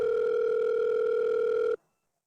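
An incoming phone call rings as a steady electronic tone, loud and close, holding for under two seconds before cutting off abruptly into silence.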